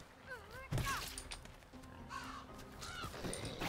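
In the video game Vikings: Wolves of Midgard, a bird caws several times in short calls. A sharp thud and other in-game clatter cut between the calls, over a quiet background.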